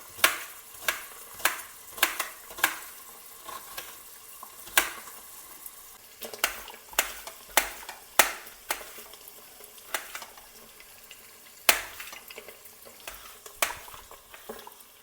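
Paneer frying in a pan for paneer biryani, with a steady sizzle under repeated sharp scrapes and clinks of a utensil stirring and turning the pieces, close and fairly loud, no talk.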